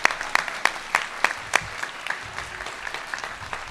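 Audience clapping for graduates at a school graduation ceremony, a few sharp distinct claps at first settling into thinner, scattered applause in a large room.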